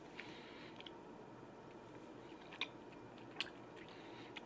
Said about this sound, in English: Like you can see, I'm actively chewing it.